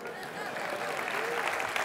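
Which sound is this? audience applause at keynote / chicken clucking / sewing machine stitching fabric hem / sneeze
audience applause at keynote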